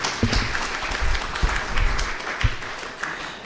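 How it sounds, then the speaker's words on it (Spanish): Audience applause for a speaker at a geotechnical engineering workshop, a dense burst of clapping that thins out over a few seconds, moderately loud and without talk. "despidámoslo con un aplauso"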